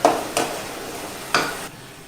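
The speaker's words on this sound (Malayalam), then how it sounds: "ഇനി നമ്മൾ ഇതിലോട്ട് ആ വറുത്ത് വെച്ചിരിക്കുന്ന കോളിഫ്ലവർ ഇടുക" Fried cauliflower pieces drop into Manchurian sauce in a pan, giving three soft thumps and stirring scrapes over a faint sizzle, close and fairly loud with no voice.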